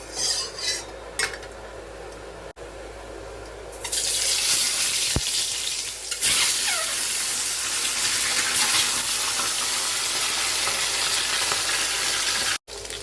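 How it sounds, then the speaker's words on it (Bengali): A boiled, peeled duck egg fries in hot oil in a wok. A few light clinks come first, then a loud, steady sizzle runs unbroken to the end. "তেল গরম হয়ে গেছে এবার ডিমটা ভেজে নেব"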